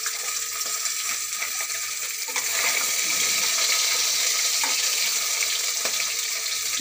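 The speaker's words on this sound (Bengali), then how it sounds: "মাছ ভাজা চলছে।" Fish fries in a pan with a steady, dense hiss of hot oil, close and constant, with faint clinks of handling partway through and no talking.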